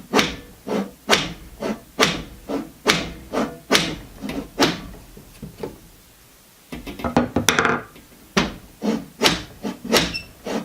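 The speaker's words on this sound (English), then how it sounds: "let your hammer slide against the glass as you go up and down" A hammer slides against window glass while driving a nail into a garage door window frame: a steady run of sharp, close taps, a pause of about two seconds, then a faster flurry of blows.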